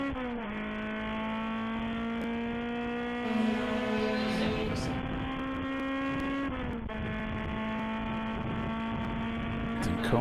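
Endurance race cars lap the Mid-Ohio circuit, engines droning steadily and shifting pitch as they pass, while a commentator talks over the racing throughout.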